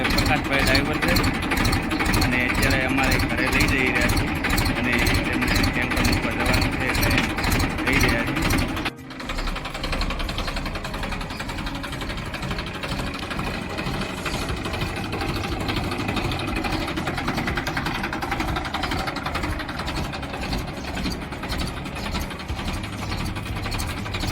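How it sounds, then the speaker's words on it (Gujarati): A farm tractor's engine idling at a farmhouse, a steady close rumble with a fast even pulse that continues for the whole stretch, dipping briefly partway through before settling back into the same drone. "આ અમારું ટ્રેક્ટર છે જે તમને બતાવી રહ્યો છું"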